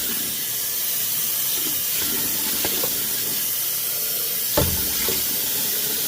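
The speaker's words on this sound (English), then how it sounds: "Fill your water all the way up and stir it." Tap water runs steadily into a container while grain is rinsed and soaked for mushroom spawn, a loud, continuous hiss with a few faint knocks and splashes.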